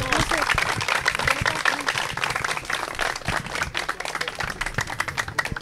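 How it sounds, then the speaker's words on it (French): An audience at a talk on flood prevention in Cameroon's Far North claps in a dense, uneven patter that rises and dips, with voices mixed in. "On applaudit très fort."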